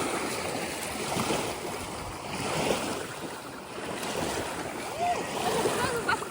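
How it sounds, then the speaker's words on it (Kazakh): Hot spring water gushing up out of the ground outdoors, a steady broad rushing and splashing wash that runs for several seconds, mixed with wind buffeting the microphone and faint voices. "Ыстық су шығып жатыр. Прям жердің астынан."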